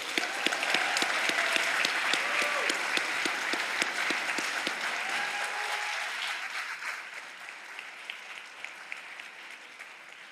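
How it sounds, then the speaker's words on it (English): Audience applause at a tribute event honoring a departing director, many hands clapping densely and fairly close, steady for several seconds then thinning and tapering off toward the end. "big round of applause for Scott"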